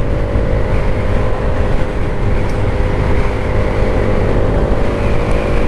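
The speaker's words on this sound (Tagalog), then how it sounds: "Napadali ang motor ni Sir Melendres" A loud, steady motorcycle engine drone runs throughout, the continuous hum and rumble of riding along at a constant pace.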